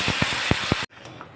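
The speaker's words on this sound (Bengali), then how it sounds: "এবারে জল দিয়ে দেবো।" Water poured into a hot pan of fried taro seasoned with salt, turmeric and dried chilli bursts into a loud, close hiss of steam and spitting for under a second, then cuts off sharply to quiet.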